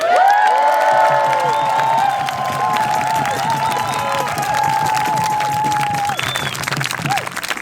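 A large crowd at an outdoor climate protest march claps rapidly and cheers for several seconds, with whoops and shouts carrying over the sustained applause.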